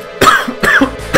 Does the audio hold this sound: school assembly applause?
no